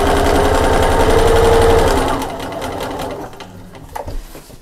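A sewing machine stitches through thick quilted layers of a shopper bag, a loud, fast, steady mechanical whir close by that runs for about two seconds, then stops, followed by faint handling clicks.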